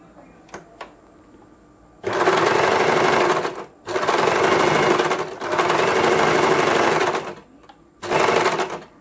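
A sewing machine stitches a pocket onto a blouse. It runs loud and close in four steady bursts of one to two seconds, separated by brief pauses, with faint clicks before it starts.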